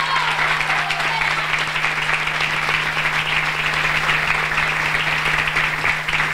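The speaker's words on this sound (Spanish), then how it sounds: "le pido un fuerte aplauso para ellas" Audience applause at a union gathering honouring women trade unionists, steady dense clapping at an even level throughout, with a constant low electrical hum beneath.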